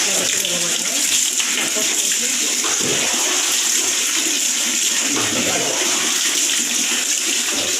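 Water pours and splashes steadily while a small child is bathed, a loud continuous rush that barely eases.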